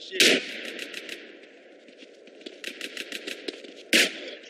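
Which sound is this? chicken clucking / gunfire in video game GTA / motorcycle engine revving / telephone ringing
gunfire in video game GTA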